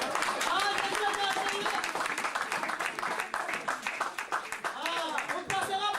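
Church congregation clapping and acclaiming Jesus, sustained dense applause with voices and cheers mixed in throughout.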